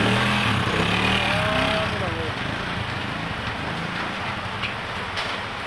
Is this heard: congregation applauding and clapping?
no